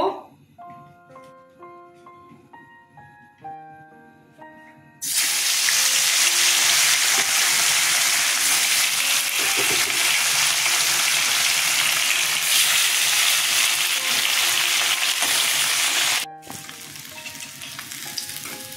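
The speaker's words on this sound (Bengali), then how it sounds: "তেল গরম হয়ে গেছে, মাছ ছেড়ে দেব।" Rohu fish slides into hot oil and bursts into a loud, steady, close sizzle that runs unbroken for about eleven seconds, then cuts off abruptly; quiet tonal music plays before it starts.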